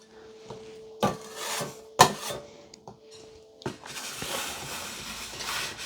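Cake scraper dragged around a frosted cake, making soft rubbing and scraping strokes with a few sharp taps from the tool or turntable, close and quiet with no talk.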